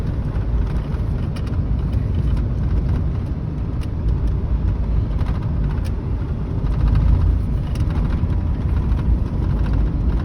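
A 1996 Chevrolet S10 pickup accelerates at full throttle on a straight road, a steady loud engine drone with road and cabin noise that swells slightly near the end, heard from inside the truck without talk.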